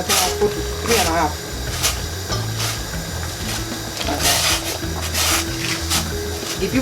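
Maize meal being mingled into ugali (posho) in a pot with hot water: continuous scraping and rubbing strokes of a stirring stick against the pot, close and loud, with some talk over the top.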